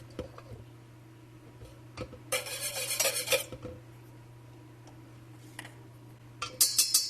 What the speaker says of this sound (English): So I'm just going to give this a stir with my whisk while it's browning.